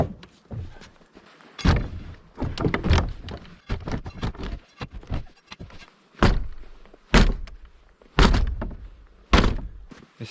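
Old Estonian farm door being moved and knocked about in a workshop, giving a series of hollow wooden thunks and thuds at irregular intervals, close and fairly loud, with no talking.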